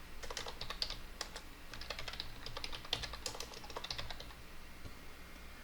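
Quick bursts of typing on a computer keyboard as a database name is entered, with close, crisp key clicks in uneven runs and short pauses, heard alone without speech.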